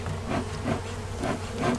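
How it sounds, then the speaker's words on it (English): Honeybees buzz steadily during the removal of a hive, a dense, close droning hum that swells and dips slightly in a regular pulse, with no voices. "I'm going to run these bees out a little bit."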